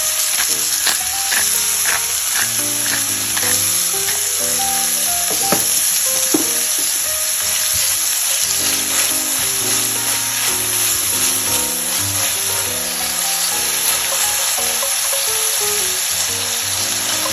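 Ground beef sizzling and frying in a pan, a steady close hiss with occasional scraping and stirring as the meat is broken up, under background music.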